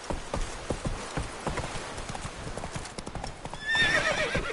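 Roach, a horse in The Witcher 3 video game, gallops with rapid, rhythmic clip-clopping hooves over a patter of rain, ending in a short whinny.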